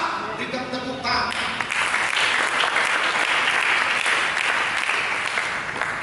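Church congregation breaking into sustained applause during a sermon, loud and dense from about one second on, following a brief voice at the start.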